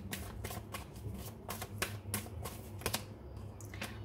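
Tarot cards are shuffled close up in a rapid, continuous patter of crisp flicks and riffles against a faint low background hum.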